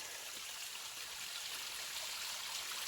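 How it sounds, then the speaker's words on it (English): A small mountain stream serves as a water source along the Appalachian Trail in Georgia, giving a steady, hissing babble of running water, close and even throughout, with no voices. "Nice little water source."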